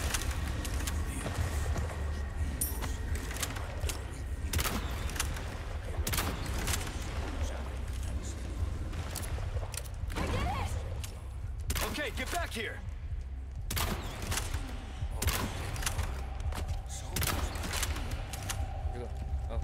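Gunfire in the 2023 remake of Resident Evil 4, with repeated sharp shots scattered irregularly across a steady low rumble, some louder and closer, while someone talks over much of it.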